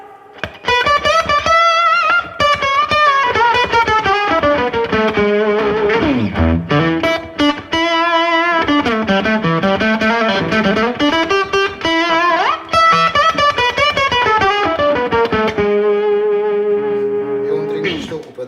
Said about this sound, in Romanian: Mai am și un Octavio care sună cumva precum o maimuță